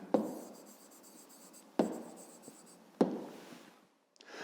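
A pen scratches on paper as an answer is written by hand: three quiet strokes spaced about a second apart, close and soft, ending in a short silence.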